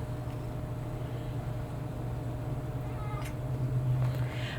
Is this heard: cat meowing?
yes